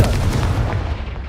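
A Confringo blasting spell explodes in Hogwarts Legacy, a loud, booming burst at the start whose heavy low rumble stays strong and slowly tails off across the moment, with no talking.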